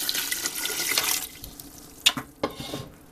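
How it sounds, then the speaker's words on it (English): Water pours from a tap into a large pot being filled to make vegetable stock, a steady rushing fill that fades partway through, followed by a few clunks and knocks of the pot. "we're going to add 8 quarts of water"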